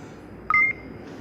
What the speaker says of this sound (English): I'm unlocking my Onescan app on my phone.